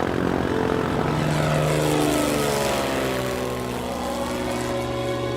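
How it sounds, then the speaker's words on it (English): Propeller-driven light aircraft taking off from a runway, engine droning loud and steady throughout with a shifting whine as it accelerates, no voices. "X-ray, you are clear for takeoff on runway 27."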